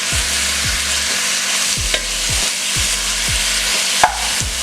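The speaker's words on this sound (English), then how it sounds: "So I'll just brown the beef off." Beef browning in a casserole dish over medium-high heat on a stovetop, a steady sizzle running throughout with regular stirring scrapes and a couple of sharper clinks, close and fairly loud with no talking.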